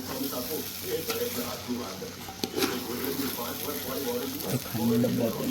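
Flattened rice (poha) is stirred and fried in a pan, with a steady sizzle under repeated scraping and tossing strokes and a couple of sharper knocks, while a voice talks over the cooking.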